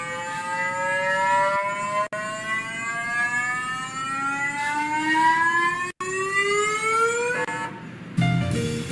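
Curiosity rover's SAM instrument vibrating at resonance to move a soil sample, a steady whining tone sweeping slowly upward in pitch like a siren, clear and continuous with two brief dropouts, ending in a short buzz.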